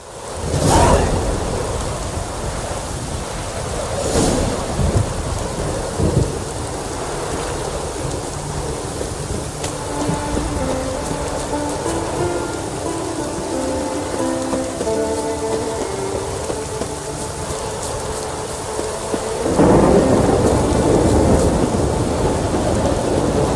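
Thunderstorm in The Witcher 3: steady rain hiss runs throughout, broken by several loud thunder cracks and rumbles near the start and a heavy rolling boom toward the end, with soft game music underneath.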